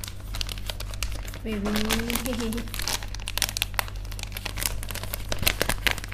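A Fisho Black Spicy Seafood snack bag is crinkled and torn open in loud, close bursts of crackling plastic, while a person talks throughout.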